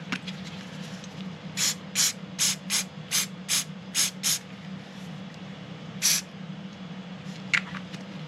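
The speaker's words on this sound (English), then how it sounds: "I'll spray it with a little accelerator." A series of short, sharp spray bursts from an aerosol can of glue accelerator, about eight in a steady rhythm, then a couple more after a pause, close and fairly loud over a low hum, during a guitar repair.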